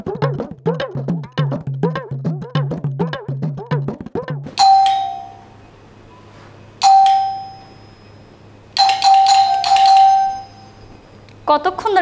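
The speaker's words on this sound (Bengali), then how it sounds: "কতক্ষণ ধরে কলিং বেল বাজতেছে" A household doorbell rings three times in quick succession, each a loud, clear electronic chime with a short pause between, following a stretch of people talking.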